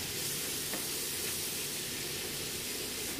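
Spice powders with garam masala being sautéed in a pan make a soft, steady sizzling hiss that stays fairly quiet and even throughout, with no voices.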